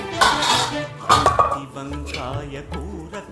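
Tomato pieces tipped into a pan for tomato pachadi, giving a few close metallic clanks and clinks of pan and utensil, with a voice talking over the clatter.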